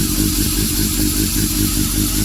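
A Honda CBR1100 Blackbird motorcycle engine idles steadily up close, a loud, even, throbbing rumble with no revving.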